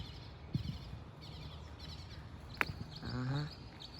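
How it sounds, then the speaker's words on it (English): Faint bird chirps in a blossoming small-town Georgia garden, short repeated phrases in the distance over a soft hum, with a brief louder call near the end. "Can you hear the birds?"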